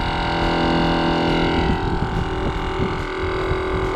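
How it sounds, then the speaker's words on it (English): A slow, steady air compressor drones while inflating a tire treated with slime sealant. It gives a continuous mechanical hum with faint rhythmic pulsing throughout. "This compressor is slow and steady"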